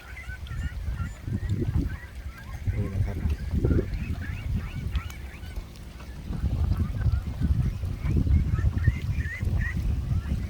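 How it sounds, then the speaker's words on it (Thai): Free-grazing ducks flock across harvested rice fields, keeping up a steady chorus of honking quacks at close to moderate distance that runs through the whole stretch, with outdoor background around them. "วันนี้ก็ดูเป็ดไล่ทุ่ง เดินขบวนเป็นแถวนะครับกำลังไป"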